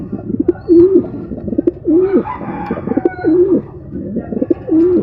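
Pigeons coo close by in a repeated rhythm, several throaty rolling calls spaced about a second apart, with soft bird chatter and rustling between them.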